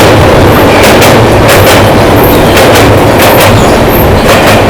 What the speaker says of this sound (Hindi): भाई ये अपनी डिब्रूगढ़ नई दिल्ली राजधानी 20-503 भाई अब जाकर क्रॉस हो रही है।